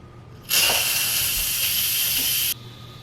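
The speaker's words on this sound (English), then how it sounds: "So let me just let any steam out in case there's any that's left in there." An Instant Pot releases leftover steam after cooking chicken bone broth: a loud, close, steady hiss that bursts on suddenly, holds for about two seconds, then cuts off sharply.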